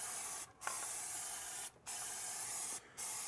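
Spray adhesive hisses in three loud, long bursts inside the trunk of a 1967–68 Ford Mustang, with brief pauses between each.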